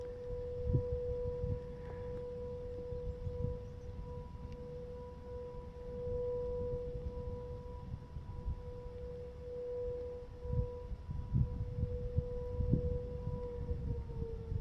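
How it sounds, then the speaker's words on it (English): A long, steady quarry blasting warning siren wails at a fixed pitch in the distance, holding its tone for many seconds over faint low rumbles and background noise. "That was a long siren. I wonder how much warning it's giving you."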